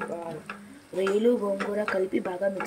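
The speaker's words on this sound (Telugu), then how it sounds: "రొయ్యలు గోంగూర వేసేసాక దీన్ని బాగా మిక్స్ చేసుకోవాలి" Prawns and gongura leaves are stirred together in a pan, giving soft scraping and light ticking clatter. A voice talks over it almost throughout.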